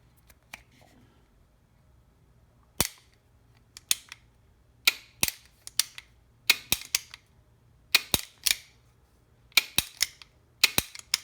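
A Foxtrot Mike FM-9 pistol's stock trigger, polished, clicking through its short reset: sharp paired mechanical clicks repeat in a steady rhythm, close and crisp against a quiet background.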